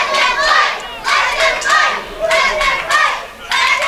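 A wrestling arena crowd cheers and shouts during a brawl between two big wrestlers, loud roaring waves of voices rising and falling in bursts.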